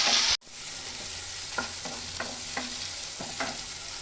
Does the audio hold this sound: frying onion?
yes